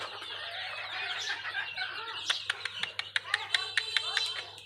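Native desi hens and roosters on a poultry farm cluck and squawk close by, a busy run of calls that turns into sharp, rapid bursts toward the end while people talk in the background.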